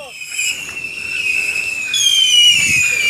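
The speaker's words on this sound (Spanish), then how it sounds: "Solo que termine de tirar el chiflador." A shrill whistling firework screeches steadily with rising and falling tones, loud and close, with a faint crackle and background noise underneath, at a Christmas Eve whistling-firework battle in Zacatecoluca, El Salvador.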